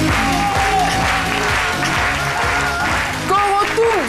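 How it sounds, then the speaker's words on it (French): Audience applause in a television studio during a midday talk show, steady clapping running under talk and music from start to finish. "Je vous demande de l'applaudir."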